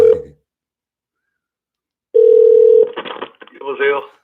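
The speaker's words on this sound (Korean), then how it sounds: "그럼 지금 전화 한번 드려보겠습니다." A steady telephone tone sounds while a call is placed, heard in two bursts separated by silence, the second one followed by brief faint ringing and tones.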